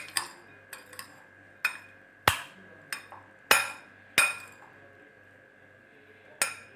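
A spoon clinks and taps against a bowl while chopped tomatoes and capsicum are mixed, with sharp, irregular metallic strikes spaced a second or so apart over a faint low hum.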